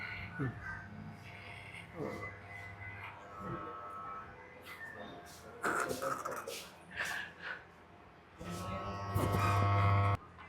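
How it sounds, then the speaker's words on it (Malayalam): A beard is shaved for a full clean shave, with a buzzing razor running in two bursts, at the start and near the end, amid room noise and voices. "അങ്ങനെ എൻ്റെ ഫുൾ ക്ലീൻ ഷേവ്"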